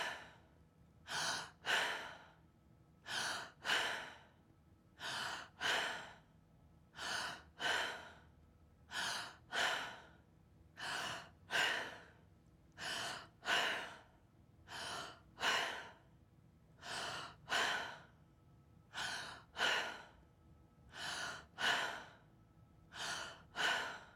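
Deep, emphasized breaths in a guided stress-reducing meditation exercise, about twenty strong inhales in a steady rhythm, each followed by a softer exhale, close and alone with no talking.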